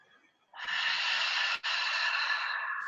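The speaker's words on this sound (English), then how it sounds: "Exhaling, breath of fire." A person does a breath of fire exercise, exhaling forcefully through the nose in a loud, sustained rushing breath that is briefly broken once before continuing, close and alone.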